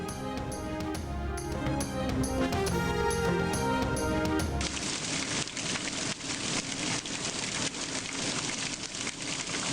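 Rain and hail falling in Peshawar and Charsadda, a steady dense hiss that begins about halfway through, after a stretch of music, and continues loudly to the end.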